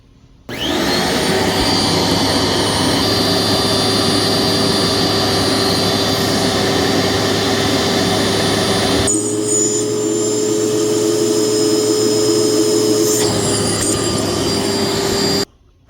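A Dirt Devil Impulse 085405RC vacuum cleaner, rated 7 amps, runs loud and steady through a hose airflow test, its motor whine holding constant with a brief change in tone partway and again near the end before it shuts off.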